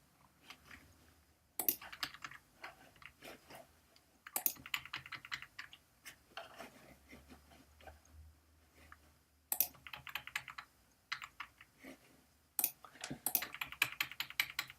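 Computer keyboard arrow keys being tapped during photo-editing work, quiet scattered clicks arriving in short irregular clusters with pauses between them, close and faint in an otherwise still room.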